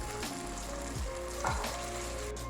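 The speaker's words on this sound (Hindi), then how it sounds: "मटर को ऑयल में फ्राई करते हुए मुझे तकरीबन 2 मिनट हो गए।" Green peas fry in oil in a pan with crushed dried coriander and cumin, giving a steady, close sizzle with a few scraping stirs and no voices.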